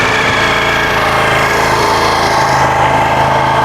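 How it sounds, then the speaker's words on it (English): A 2025 Ducati Panigale V4 with stock exhaust at cold start, a steady, loud, close engine idle with a busy mechanical clatter and no talking. "Here is the cold startup of a 2025 Panigale V4 stock exhaust."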